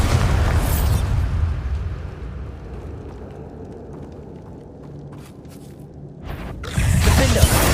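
A Bombarda explosion spell goes off in Hogwarts Legacy, opening and closing with loud, booming blasts and a low rumble sustained between them.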